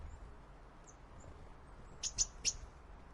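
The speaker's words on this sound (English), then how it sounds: "You just hear the bird sounds." Birds chirp outdoors, with a few faint, short high tweets heard well in the distance, most of them grouped in a quick cluster near the end.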